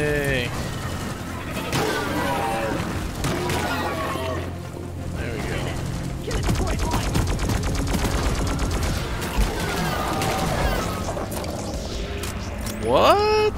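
Dense, repeated gunfire and explosive shots rattle through a chaotic firefight in a video game, with constant talk and shouting layered over the combat.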